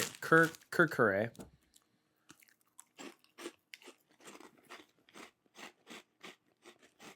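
Masala Munch Kurkure snack is crunched in the mouth, a run of crisp, evenly spaced bites and chews following brief talk at the start.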